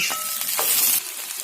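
Cut green and ripe plums for a sweet-sour pickle drop into hot oil, setting off a loud, close, hissing sizzle that stays strong and bubbling throughout, with a brief clink of a utensil near the start.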